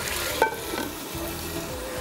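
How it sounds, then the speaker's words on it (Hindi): Chicken fries in a pan for saffron biryani, giving a steady, close hiss of oil with a brief clink near the start and no talking. "चिकन को अच्छी तरह भूनिएगा, इसको पकने के लिए छोड़ दीजिएगा"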